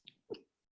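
A single short, quiet sneeze from a person, a brief hissing intake followed by a sharp burst, then silence.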